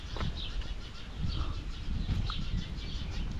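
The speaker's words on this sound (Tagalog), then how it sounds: "Daming ibon, oh." Many birds hidden among the leaves of a tree in New Zealand, with scattered calls and wing flaps over a steady outdoor background.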